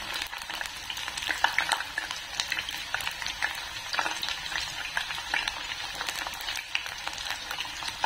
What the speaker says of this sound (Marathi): अशा प्रकारे ही आपण परतून घेऊया.